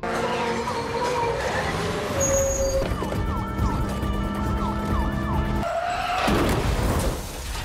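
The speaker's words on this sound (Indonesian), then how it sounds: "Di sini Lino dapat mengecoh beberapa mobil polisi dengan memanfaatkan bus yang melintas." Police car sirens wail in a film car chase with a bus passing, rising and falling tones over engine rumble and tire noise, loud and close, with a voice speaking under the din.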